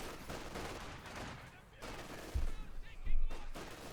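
Gunfire from grenadiers and conscripts trading shots in the video game Company of Heroes 2, with bursts of crackling weapon fire and a few heavier low thumps over a steady battle din.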